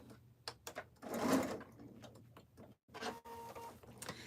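Sewing machine stitching jelly roll fabric strips around batting for a rug, short mechanical whirring bursts with clicks and pauses, close and fairly quiet, no talk.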